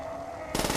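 A PPSh submachine gun in Call of Duty: World at War Nazi Zombies on the Verrückt map opens up partway through, a loud, rapid rattle of automatic fire cutting in after a quieter hum.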